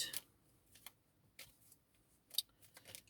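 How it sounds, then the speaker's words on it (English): Faint, close-up crisp riffles and soft clicks of cards being shuffled, arriving in irregular short bursts against near silence. "Let me just shuffle these cards."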